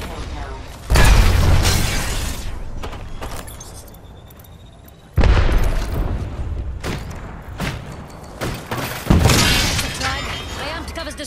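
Grenade blasts in the video game Apex Legends, several loud booming explosions with shattering debris and long decaying tails, spaced a few seconds apart.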